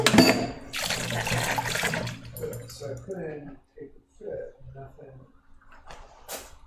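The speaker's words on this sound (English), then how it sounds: "Wash my fork." A fork is rinsed under running tap water in a kitchen sink, giving a loud rush of water at the start. It is followed by softer splashes and clinks while a person talks.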